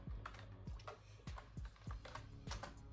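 Rapid keystrokes on a computer keyboard, a steady run of close, crisp clicks with a few louder taps standing out, heard alone with no talk.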